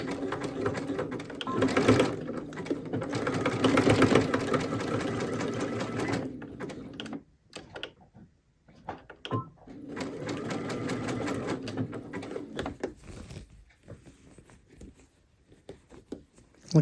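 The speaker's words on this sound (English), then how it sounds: "We're going to sew the edges together." A sewing machine running a small zigzag stitch along the edges of a plaid kitchen towel, whirring steadily and close, pausing briefly partway through before starting again for a shorter run.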